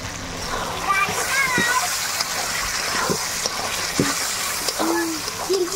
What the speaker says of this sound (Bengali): এবার দিয়ে দেবো একটু জল, জল দিয়ে ভালো করে মশলা কষিয়ে নেব।